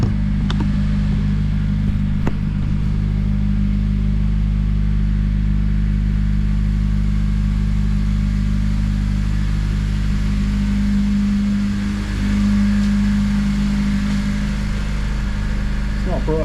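A Honda Civic Type R FN2 with a Tegiwa 70mm exhaust and 4-2-1 manifold idles while warming up, a loud, steady low drone holding constant throughout with a faint clicking near the start.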